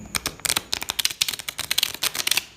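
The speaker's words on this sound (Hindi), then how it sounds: "हम ऐसे भी कार्ड्स को शफल कर सकते हैं" A deck of playing cards being shuffled by hand, heard up close as a quick run of crisp, papery riffling flutters with a few short pauses, with no talking.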